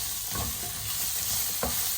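Onion and garlic fry in a pan for a Mangalorean chicken curry, a steady close sizzle with two brief stirring scrapes.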